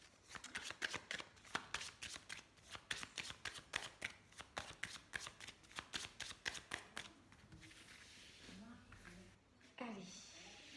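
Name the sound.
shuffling a deck of cards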